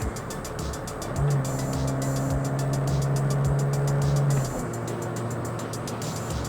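An LPG-fuelled car engine holds a loud, steady high-rev drone near 6000 rpm, a sustained engine tone that shifts slightly partway through, heard from inside the car with no talking.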